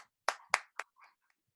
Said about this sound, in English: we can clap over here.